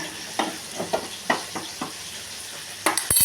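Rohu fish masala being stirred and fried in a pan, a soft steady sizzle broken by several scraping stirs in an irregular rhythm, close and fairly quiet.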